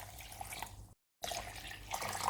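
Water runs and trickles as it is poured into a qatayef batter mix with flour, baking soda, sugar and corn flour, a steady close splashing that cuts out for a moment, then resumes.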